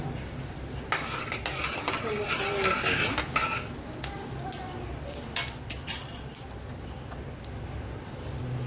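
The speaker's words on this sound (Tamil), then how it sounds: "சோம்பு மட்டும்தான் ஆட் பண்ண போகிறேன்" A spoon stirs fennel seeds in a hot pan for a chicken fry, giving close scraping and metallic clinks over a faint background sizzle, with sharper knocks against the pan toward the end.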